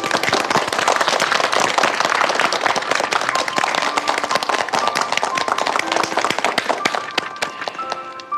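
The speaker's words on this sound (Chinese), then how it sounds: "让我们给他鼓掌。" A crowd bursts into loud, dense applause at an event in a Chinese drama, many hands clapping steadily for about eight seconds before thinning slightly at the end.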